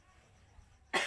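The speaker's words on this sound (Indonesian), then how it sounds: "aduh sampai batuk." A single sudden cough bursts out at the very end after a near-silent stretch, close and fairly loud.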